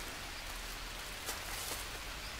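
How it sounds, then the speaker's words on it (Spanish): Steady, dense rain falls across a jungle in the survival game Green Hell, an even hiss of drops with a few louder spatters, continuous and unbroken, with no voices. "Y encima con lluvia."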